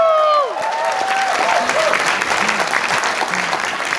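Dense, sustained applause from a seminar audience at a business talk fills the room after a brief rising voice at the start, steady and fairly loud throughout.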